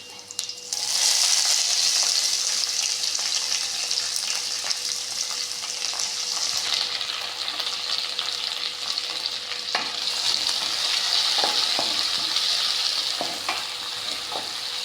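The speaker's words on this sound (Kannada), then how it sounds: "ನೋಡಿ, ಇಲ್ಲಿ ಈರುಳ್ಳಿ ಫ್ರೈ ಆಯಿತು." Chopped onion sizzling in a pan for tomato gojju, a loud continuous frying hiss heard up close for the whole stretch, with occasional stirring clinks and no talk.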